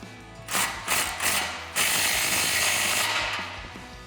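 A ratchet with a 13mm socket tightens an exhaust hanger on a 2018-2023 Mustang GT during a cat-back install: several quick clicking bursts, then a longer steady run of close, crisp ratcheting.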